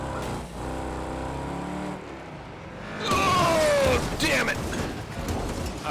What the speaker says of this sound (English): We got T-boned hard.